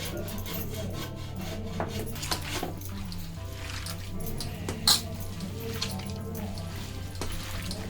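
Steady wet rubbing and squelching as goat intestines are rubbed with wheat flour, close up and continuous, with a low hum underneath and a brief knock midway.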